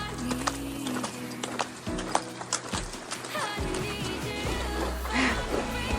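A horse ridden on an outing near Sainte-Flavie, Quebec, clip-clops in a steady galloping rhythm, hoofbeats close and fairly loud over a broad outdoor background, with brief snorting or whinny-like sounds.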